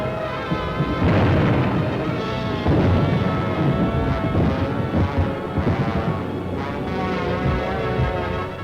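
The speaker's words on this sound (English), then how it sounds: "Millions of firebombs rained down on the great city of London." Firebombs explode over London in Second World War footage, a dense and continuous roar of blasts, crashes and rumbling that stays loud throughout.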